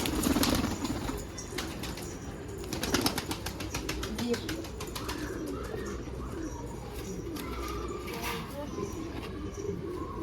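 Arans pigeons cooing softly in a loft, low murmuring calls with occasional wing flaps and rustling, fairly faint and continuous.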